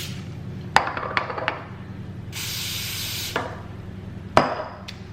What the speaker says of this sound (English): Spray your hands.